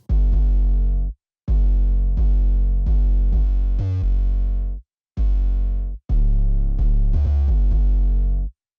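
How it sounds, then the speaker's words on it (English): A hip hop bass line plays through a distortion and saturation plugin, its heavy, gritty low notes coming in loud sustained phrases broken by short gaps, with no talk. "I'm just distorting, adding some harmonic saturation to the lows and then to the mids."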